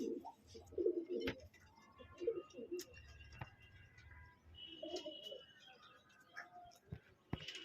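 Shirazi pigeons in a loft give soft, intermittent coos and low burbles, with a few brief chirps among the birds. Someone talks quietly through much of it.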